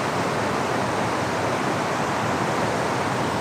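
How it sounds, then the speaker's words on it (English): A massive waterfall roars as a steady, dense, broadband rush of falling water, loud and unbroken throughout with no voices. "Quite a massive waterfall."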